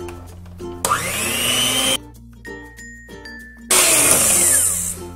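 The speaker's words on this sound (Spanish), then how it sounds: "Yo lo voy a hacer con una batidora eléctrica" An electric mixer creams butter and sugar for cupcake batter, whirring loudly in two long bursts separated by a quieter pause with light clinks and taps.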